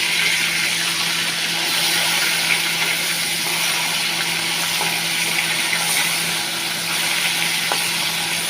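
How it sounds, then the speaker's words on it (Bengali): Small bhola fish frying in hot oil in a home kitchen, giving a steady, dense sizzle that holds at an even level throughout, close and continuous with no talking. "তেলটা গরম হয়ে গেছে, এবার আমি ভোলা মাছগুলো ছেড়ে দিই।"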